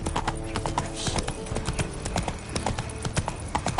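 Roach, the horse in The Witcher 3 on next-gen PS5, gallops with a steady, rapid clip-clop of hooves running close and loud through the whole stretch, layered over game ambience.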